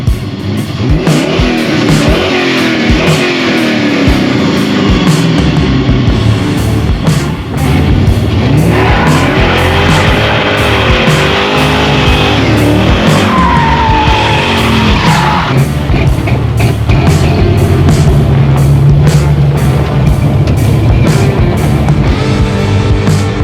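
A car engine rumbles loudly and continuously for over twenty seconds, its pitch repeatedly rising and falling as the throttle is revved up and eased off, close by.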